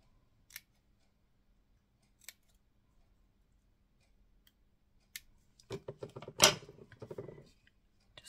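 Scissors snip through a large card embellishment, cutting it in half: a couple of faint isolated snips, then a louder cluster of close crisp cuts and rustling paper handling near the end.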